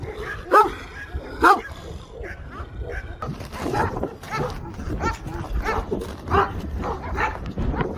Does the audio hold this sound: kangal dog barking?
yes